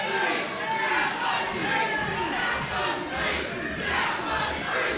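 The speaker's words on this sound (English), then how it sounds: "And you hear the crowd." A wrestling crowd roars at an independent New South show, loud and sustained for the whole stretch, with swelling cheers and shouting after a near pinfall, dense and close with no break.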